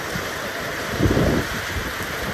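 Steady heavy rain pours down on a Konkan village in a dense, unbroken hiss, with a slightly louder surge partway through.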